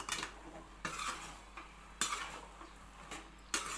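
Chanangi mixture being stirred in a pan with a utensil: quiet scraping strokes and sharp clinks against the metal, repeating in an uneven rhythm roughly every second, close up with no talking.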